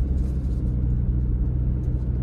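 A car drives along Bustleton Avenue in Northeast Philadelphia, giving a steady, loud low road rumble and engine drone heard from inside, with no voices over it.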